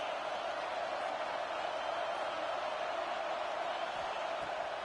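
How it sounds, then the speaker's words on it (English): Stadium crowd roar from a college football video game, Oregon against USC, a steady, dense wash of cheering that holds at an even level throughout. "This crowd trying to make life miserable for this offense."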